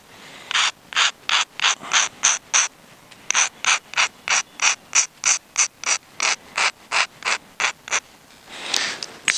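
Rhythmic back-and-forth strokes of a medium grit stone abrading the edge of a flint knapping preform, close and steady in regular bursts with short pauses, ending in a brief scuffle.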